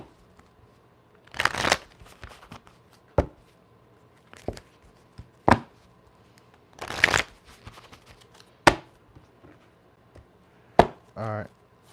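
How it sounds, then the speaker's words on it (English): Tarot cards being shuffled in quick bursts, a few riffling flurries separated by sharp taps and pauses, close up with no talking. "Let's get a little quick shuffle."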